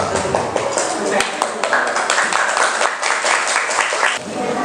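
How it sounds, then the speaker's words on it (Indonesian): A classroom of students applauds group 2 in a lesson, steady, fairly loud clapping from many hands filling the room, with voices talking over it. "Tepuk tangan untuk kelompok 2"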